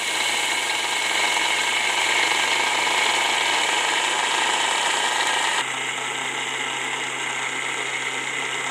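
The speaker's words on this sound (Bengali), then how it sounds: "বাকি চালগুলো সব আমি একই রকম করে গুঁড়ো করে নেব।" Rice being ground into powder in an electric grinder: a continuous, loud, dense whirring and grinding drone that holds steady, then drops slightly in intensity partway through.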